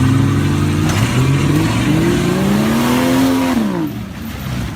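A Jeep Cherokee takes off and accelerates, its engine note rising and falling through revs, loud and close, with the pitch sweeping upward before easing near the end.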